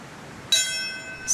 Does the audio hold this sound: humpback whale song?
no